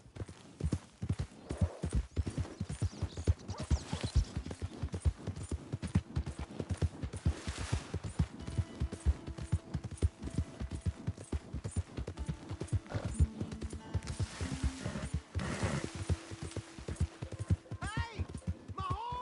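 Steady clip-clop of horse hooves trotting close by, with a whinny and people talking and shouting over the rhythmic beats.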